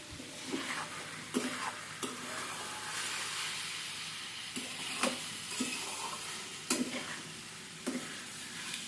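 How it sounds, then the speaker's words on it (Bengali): Softened pumpkin is stirred and fried in a pan: a constant soft sizzle and hiss with occasional sharp spatula knocks and scrapes, close up and without voices. "এবারে নেড়ে চেড়ে শুধু ভেজে নেব।"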